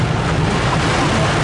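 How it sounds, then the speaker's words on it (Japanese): A torrential guerrilla downpour hisses and roars loudly and nonstop, heavy rain close by mixed with wind buffeting the microphone, over a brief burst. "ゲリラ豪雨です。"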